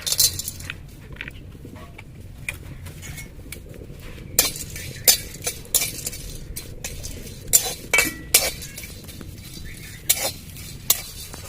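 Spices are stirred and dry-fried in a kadai for chicken biryani, with a spatula scraping and clinking against the metal in irregular sharp knocks over a soft continuous sizzle, and no speech.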